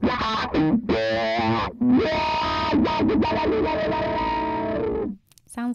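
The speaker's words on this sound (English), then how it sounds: "So that is definitely the wah." A distorted electric guitar plays sustained, sweeping notes with a chorus shimmer and vocal-like tonal sweeps from a wah pedal, loud and upfront, stopping abruptly near the end.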